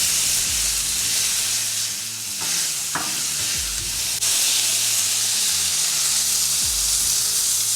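Smashed beef patties sizzle loudly and steadily on a hot Blackstone griddle, with a few scraping spatula strokes and taps cutting through the constant frying hiss; no talking.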